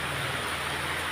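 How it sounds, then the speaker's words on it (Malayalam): Heavy rain in a windstorm pours down around a home in a dense, steady hiss that fills the brief moment. "കണ്ടില്ലേ നല്ല ശക്തമായ മഴ."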